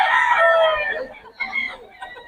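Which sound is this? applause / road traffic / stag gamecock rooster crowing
stag gamecock rooster crowing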